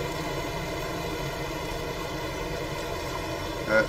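An old John Deere tractor engine runs steadily while ploughing land on a farm, a constant mid-range drone that holds throughout, with a brief higher mechanical whine rising near the end.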